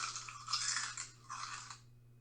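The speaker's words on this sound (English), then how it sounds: "like loud eating." Loud eating sound effect played from an iPad, a broadband crunching and chewing burst lasting about two seconds with a short pause midway, alone over a faint steady electrical hum.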